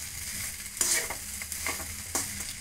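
Crushed garlic frying with ladies finger (okra) in a pan for a Karnataka-style palya, a steady close sizzle with scrapes of stirring and a few sharper clinks of the spoon against the pan.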